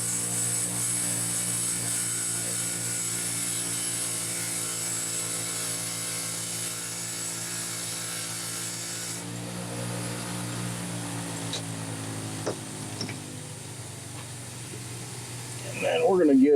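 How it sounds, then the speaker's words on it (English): A bench wire wheel spinning steadily with a tonal motor whine, then winding down as a Homelite Super 2 crankshaft's rust marks are cleaned off, followed by faint clinks and a brief louder rustle at the end. "I'm going to run that across the wire wheel and take that off"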